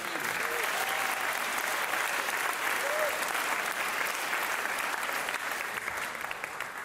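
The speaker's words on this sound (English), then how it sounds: "Round of applause" An audience at a San Diego pitch slam competition gives a long, sustained round of applause, broad and even from start to finish, with faint voices and brief cheers mixed into the clapping.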